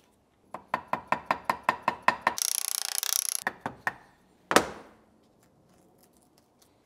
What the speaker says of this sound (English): Time to mask up areas that we don't want to paint.